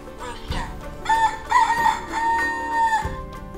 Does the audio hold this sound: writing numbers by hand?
no